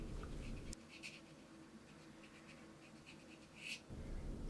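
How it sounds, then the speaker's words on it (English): Sandpaper rasps steadily along the edges of a leather coin pouch, a soft, continuous scratchy sound that is fairly quiet and close, with no voices. "Do lots and lots of sanding."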